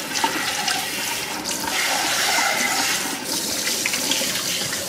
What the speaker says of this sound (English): you might be able to see some water shooting through the spout to clean that out